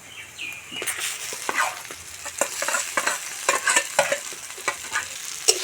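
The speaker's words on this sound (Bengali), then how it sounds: "আলু আর ডিম একটু পেঁয়াজ লঙ্কা রসুন আদার সঙ্গে ভালো করে নেড়ে চেড়ে নিচ্ছি" Grated potato and egg sizzle in a hot pan with onion, chili, garlic and ginger while a spoon stirs and scrapes in quick, irregular strokes, close and lively throughout.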